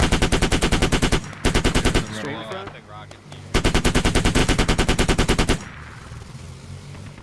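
A .50 cal machine gun fires in the video game Squad, loud and close, in long rapid bursts separated by short gaps, with a brief scattered stretch of fainter gunfire in between.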